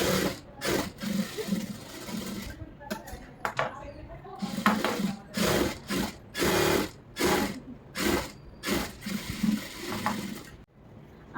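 Sewing machine stitching a lined blouse, running in repeated short bursts with brief pauses between them, fairly close and moderate in level, with light handling clatter and no talk.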